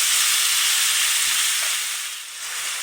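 Ground meat for moussaka sizzles loudly in a hot pan as it is stirred, a dense continuous hiss that eases slightly near the end, with no voices.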